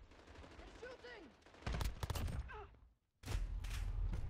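Bursts of automatic gunfire in a Call of Duty Modern Warfare match, with a sharp volley, a brief gap of near silence, then sustained loud shooting filling the rest of the clip, and a voice briefly heard early on.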